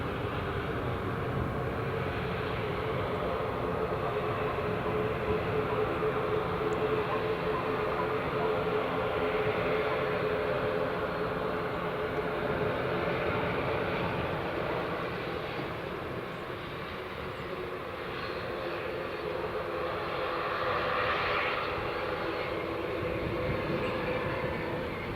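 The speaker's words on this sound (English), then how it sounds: "Aer Lingus clear for takeoff." An Aer Lingus airliner's jet engines roar during takeoff at Newcastle International Airport, a sustained loud broadband rush that swells and eases over about twenty-five seconds.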